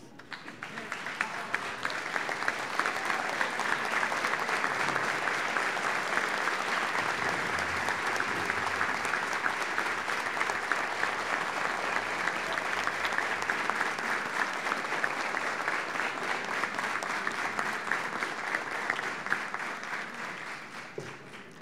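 A standing audience at a graduation ceremony for educators at Casa del Lápiz gives a long round of applause, building quickly, holding as a dense steady roar of clapping, then tapering off near the end.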